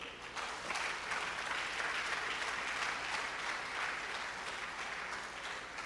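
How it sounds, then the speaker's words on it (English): An audience gives a sustained round of applause at an event, a continuous, even wash of clapping heard at a moderate distance with no talking over it. "A round of applause for"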